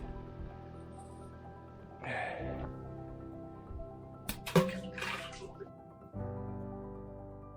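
Water at an ancient historical site among immense old tombs and stone buildings, dripping and splashing softly close by in short wet bursts over a steady low hum.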